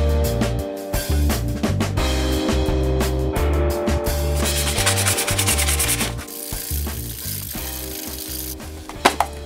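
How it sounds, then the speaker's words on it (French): Sandpaper rubbing an airsoft replica magazine to wear the paint down to bare metal on its sharp edges, a close, steady scratchy rubbing that runs through the whole stretch over a strong, tonal background. "vous pouvez tout simplement les poncer pour faire apparaître le métal d'origine sur les angles saillants"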